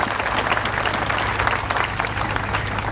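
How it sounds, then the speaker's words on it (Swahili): An audience claps in sustained, dense applause at a Tanzanian government ceremony handing over vehicles to education officers, a steady roar of many hands with no talk. "Tumpigie makofi mengi sana Mheshimiwa Samia Suluhu Hassan."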